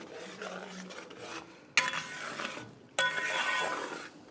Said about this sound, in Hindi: और अब अच्छे से चला लेंगे